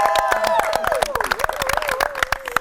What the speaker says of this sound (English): Just in case you heard the claps and you're wondering who's been clapping. No, this is not machine clap. This is our studio audience.